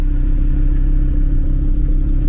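An Audi TT RS engine holds a steady, loud, low idle-like drone with a constant rumbling tone, close by and with no talk over it.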